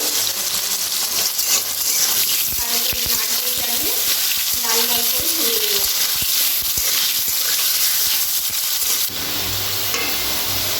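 Potatoes fry in hot oil while a vegetarian Bengali soybean dish is being cooked, giving a steady, loud sizzle with stirring clinks and a faint voice in the background; the sizzle drops slightly near the end.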